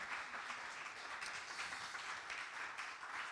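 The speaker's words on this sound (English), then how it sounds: "a big round of applause" Steady, dense applause from a meet-up audience thanking a speaker, continuous and fairly distant, with no talking over it.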